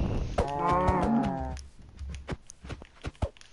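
Cows mooing in the video game Minicraft: one long, loud, drawn-out moo up front, followed by softer clip-clop steps and small scuffling noises, with no talking.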